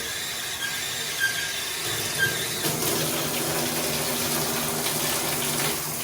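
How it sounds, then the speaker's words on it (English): Shower water runs from a riverboat cabin fixture, a steady hiss and splash with a faint squeal, rising in intensity partway through and continuing close and alone. "If we turn the water on and we pull up this part right here, you will see the shower will activate."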